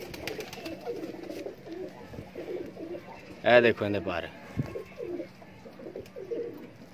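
Kasur pigeon cooing, a short, close burst of soft throaty coos midway through, with people talking nearby before and after.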